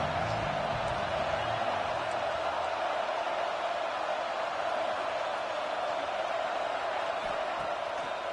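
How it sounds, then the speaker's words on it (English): Steady stadium crowd roar from an NCAA 26 college football game, Georgia versus Washington, holding as a dense, unbroken wash of cheering throughout with no distinct voices on top. "This crowd knows this defense needs them right now."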